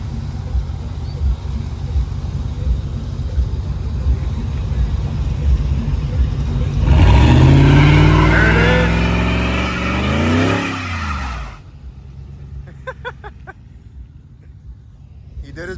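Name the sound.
2006 Ford F-150 truck revving during a burnout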